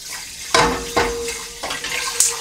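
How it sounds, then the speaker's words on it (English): Tap water runs and splashes to rinse rice in a pot in a home kitchen, a close steady rush with a few sharper sloshes as the grains are stirred. "You rinse your rice"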